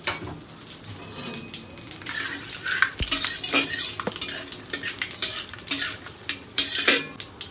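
Panch phoron and dried chillies crackle in hot oil in a large wok, with spluttering bursts mixed with metal clinks and scraping of utensils against the pan.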